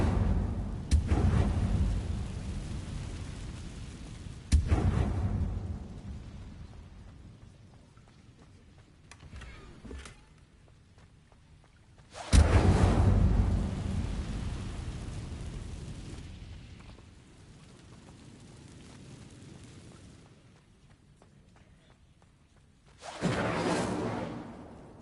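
A fire spell being cast in the Hogwarts Legacy video game: several separate whooshing, crackling bursts spaced seconds apart, each loud at onset and fading into a soft rumbling tail, with quiet gaps between.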